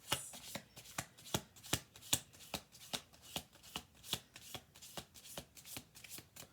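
Oracle cards are shuffled in a steady series of crisp, soft slaps, about two per second, quiet and close with no talking.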